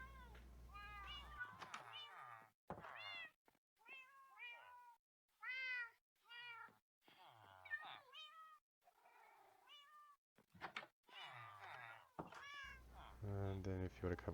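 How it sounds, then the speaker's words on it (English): Cats meow over and over inside a video game base, clear, separate calls in an uneven rhythm with short silences between them. "Inside you have a bunch of cats."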